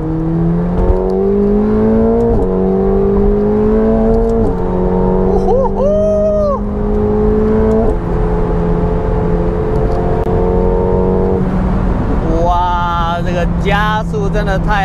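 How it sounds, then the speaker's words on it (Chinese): McLaren 750S supercar accelerating hard on a highway, engine note climbing through several gear shifts with rising pitch, loud and close from inside the cabin, with speech over it. "加速真的太嗨了啦"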